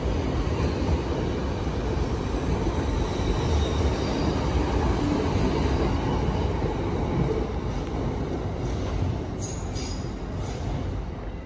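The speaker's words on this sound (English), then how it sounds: "803-001 heading off to Browns Green Depot for stabilisation" A Class 803 electric train pulls away from London Kings Cross, heading off empty to the depot, with a steady, loud rumble and wheel noise that holds throughout, with faint high squeals near the end and no talking.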